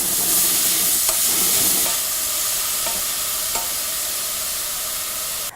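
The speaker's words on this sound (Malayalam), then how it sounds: "ഈ സെയിം പാത്രത്തിലോട്ട് നമ്മൾ ഗ്രേറ്റ് ചെയ്ത് വെച്ചിരിക്കുന്ന ബീട്രൂട്ട്, പച്ചമുളക് എന്നിവയിട്ട് നന്നായി മിക്സ് ചെയ്ത ശേഷം" Grated beetroot and green chili stirred in a hot pan: a steady, loud sizzling hiss with a few scraping strokes of the spoon, easing slightly after the first couple of seconds and continuing without voices.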